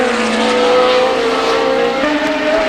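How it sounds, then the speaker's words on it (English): Formula One cars from the 1970 British Grand Prix at Brands Hatch, including a Lotus 72, roaring loudly at a steady high engine pitch with a sustained whine that rises slightly near the end. "Rindt in the very advanced Lotus 72 with torsion bar suspension, a breakaway from modern practice"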